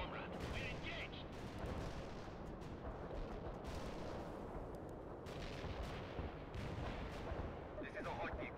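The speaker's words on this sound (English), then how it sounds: "Incoming fire. Watch out." Dense, continuous gunfire and artillery rumble fill a battle in the World in Conflict video game, sustained and heavy throughout with no clear gaps, and faint voices underneath.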